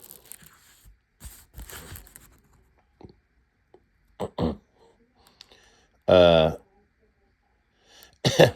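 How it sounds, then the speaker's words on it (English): A single sharp cough bursts out clearly near the mic after scattered rustling and handling noises, followed by a brief second burst. "Pardon me, I had to cough there."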